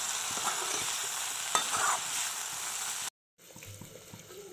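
Labra, a mixed vegetable dish, stirred in a pan as it fries, with a steady sizzle and scraping spoon strokes; the sound cuts out briefly near the end, then resumes more quietly.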